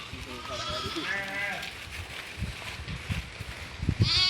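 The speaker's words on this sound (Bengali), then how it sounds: "দেখেন কত সুন্দর সুন্দর ভেড়া ছাগল" Sheep and goats bleat on a farm, several wavering calls overlapping at close to middle distance, while people talk nearby.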